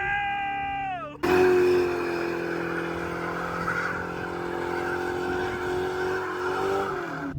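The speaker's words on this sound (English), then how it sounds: "It is a new day now, and we're riding in the Mustang." A 1999–2004 Ford Mustang track car with a McLeod Super Street Pro clutch and lightweight flywheel, heard from inside as the engine revs up and then holds a loud steady drone under acceleration.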